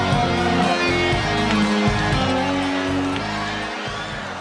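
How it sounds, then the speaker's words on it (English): Steady crowd murmur fills a basketball arena during a UNTV Cup finals game between Ombudsman and Agriculture, a dense loud hum with faint shouts and a commentator talking over it. "murmuring here, trying to find something to get excited about"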